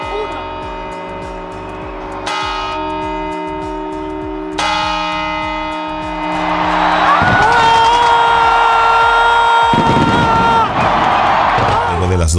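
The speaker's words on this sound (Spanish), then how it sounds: "con las campanadas que se hacen en Sol, en la Plaza del Sol, en Madrid" New Year's Eve bell chimes at Puerta del Sol in Madrid ring out in a regular series of loud strokes, then a crowd erupts into cheering and whooping over lingering tones.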